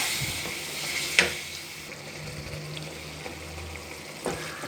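Drumstick pieces sizzle softly in a pan for a gravy while a utensil stirs and scrapes, with a few sharp clinks against the metal.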